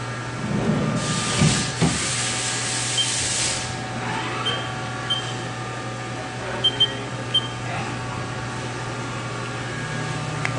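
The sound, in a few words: machine cutting a custom key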